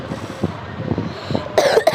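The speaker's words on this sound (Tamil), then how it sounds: "இது இருமல்." A coughing sound comes from a children's happy puzzle ball game: a few soft, short coughs are followed by a louder, brighter burst at the end.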